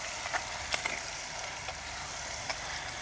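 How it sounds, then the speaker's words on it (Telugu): Ground onion and chili paste fries in oil in a pan, a steady hissing sizzle close by with a few light clicks from a stirring spoon. "ఇది ఇట్లా నూనెలో వేపుకోవాలి మంచిగా."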